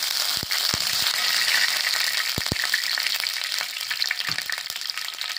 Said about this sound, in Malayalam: കടുകൊന്ന് ഇളക്കി കൊടുക്കാം.